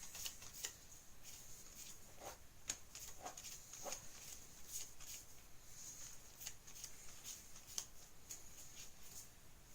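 A Magic: The Gathering deck shuffled at a game table: a steady run of soft, quick card snaps and riffles, quiet and close, continuing for several seconds over low room hiss without speech.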